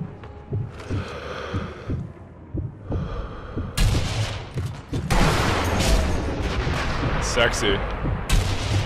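Sniper rifle shots ring out in the video game Sniper Elite V2, several loud cracks and booms spaced a second or two apart, mixed with game effects and a player's brief comment.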